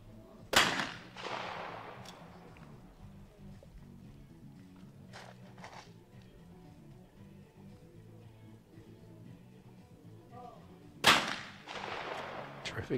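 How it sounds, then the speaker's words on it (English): Sharp shotgun blasts in a men's trap shooting final, one loud report near the start and another near the end, each ringing briefly over low crowd and ambient murmur. "terrific shot and reaction times from Chernogorac"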